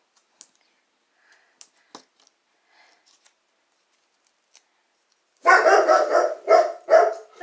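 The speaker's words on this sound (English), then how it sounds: "excuse the dogs barking" Several dogs bark loudly in a rapid burst of overlapping barks after a long near-silent stretch broken only by a few faint clicks.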